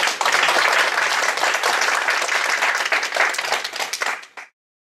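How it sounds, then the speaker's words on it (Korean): Dense, sustained applause from an audience at a developer center open-house event, loud and continuous for several seconds before cutting off abruptly, with no talk over it. "다시 한번 박수 부탁드립니다."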